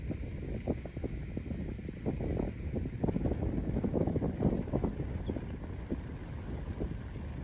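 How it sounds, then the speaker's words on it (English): Cold breeze blowing across the open Gawler Ranges in South Australia near a homestead, buffeting the microphone in continuous low rumbling gusts with no voices. "Cold and breezy up here."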